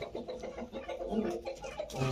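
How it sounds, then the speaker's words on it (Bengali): Soft, steady clucking from a native village hen, fairly faint and close, continuing throughout without pause. "এখন হচ্ছে একটা দেশি মুরগি এই মুরগিটা হচ্ছে খুবই চালু প্রকৃতির"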